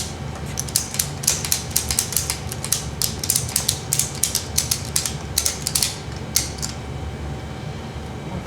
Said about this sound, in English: I'm going to kind of ratchet them evenly.